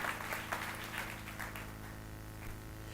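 An audience at a French-language religious gathering applauds, giving a steady wash of clapping that fades over a few seconds above a low sustained hum.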